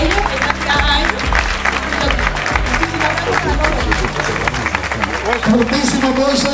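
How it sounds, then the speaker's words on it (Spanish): A crowd at a trail race award ceremony in Cuevas del Becerro, Málaga, breaks into sustained applause and cheering, loud and dense, while speech and crowd babble mix in. "Fortísimo aplauso"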